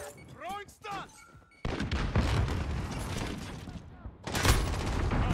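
Shotgun fire in a video game: after a few seconds of a voice speaking, heavy blasts break in loudly and are sustained, then a brief gap before another burst of firing.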